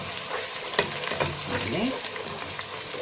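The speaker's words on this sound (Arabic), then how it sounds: "احنا هنشوح معلقه الهريسه دي والفلفل الحلو والليمون اللي مقطعينه" A spoonful of harissa, sweet peppers and chopped lemon sauté over browned onions in a pan, giving a close, steady sizzle broken by the scrape and clatter of stirring.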